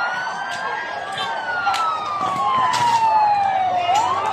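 A fire truck siren wails from a distance during a fire in Parañaque, its tone sliding slowly downward and climbing again, over faint street noise.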